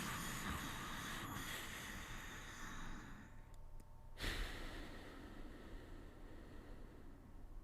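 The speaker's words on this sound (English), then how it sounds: "the breath changes from a basic inhale to a really like audible one that sounds almost like a snore" Audible breathing drawn in through the nose during a Gamma breathing exercise, loud and close. It sounds as a long, rough, snore-like rush of air with a brief pause in the middle and no speech.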